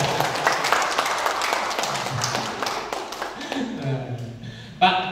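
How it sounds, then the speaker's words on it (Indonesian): Audience applauding an official at a school event in a hall at SMKN 8 Semarang, a dense patter of clapping for about three and a half seconds that then thins out, with talk mixed in. "Tepuk tangan dulu untuk Pak Arif."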